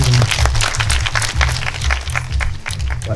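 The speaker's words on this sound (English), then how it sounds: "Round of applause, guys." Loud close applause from a small audience at a hairdressing master class, brisk uneven hand claps for about three seconds with a low rhythmic music beat underneath.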